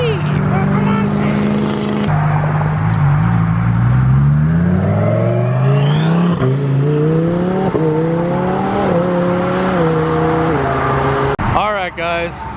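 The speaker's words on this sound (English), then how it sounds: "Underground Racing Twin Turbo Huracan Performante" Underground Racing twin-turbo Lamborghini Huracan Performante leaving a car show, its engine revving up through rising pitch sweeps with gear changes, loud and close, with crowd voices and a sharp burst near the end.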